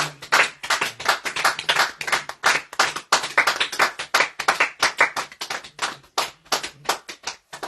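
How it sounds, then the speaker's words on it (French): A church congregation claps loudly in rhythmic, uneven bursts throughout, close and continuous with brief dips between rounds, no voices. "Aujourd'hui, nos applaudissements étaient tellement forts."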